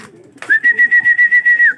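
Racing pigeon returning to the loft, a near, loud whistling note broken into a quick steady run of about nine pulses after a short scuffle.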